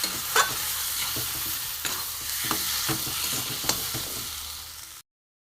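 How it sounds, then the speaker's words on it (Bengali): Pea filling for matar shutir chop frying with salt in a pan, with a steady close sizzle broken by several sharp scraping stirs, then a sudden cut to silence near the end. "এখানে আমি নুন দিয়ে দেবো। দিয়ে আমি ভালো করে এটাকে আমি কষবো।"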